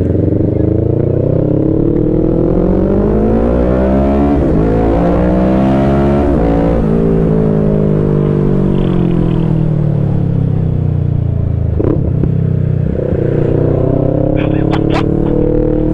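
Kawasaki ZX10 sport motorcycles on a mountain road roar loudly past in a continuous rising and falling engine howl, with riders talking over the noise.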